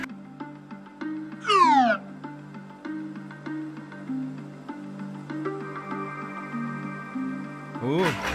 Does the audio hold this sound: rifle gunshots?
no